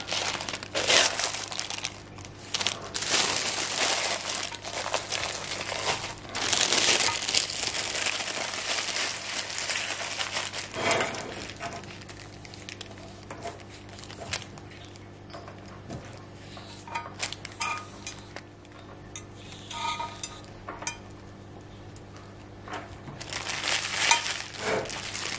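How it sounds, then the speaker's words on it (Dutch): Floral foam for a spring flower arrangement pot is cut and pressed, giving close, loud crunching and crinkling bursts, with scattered clicks and softer scraping in quieter stretches. "En dan gaan we de oase snijden en deze bevestigen in de pot."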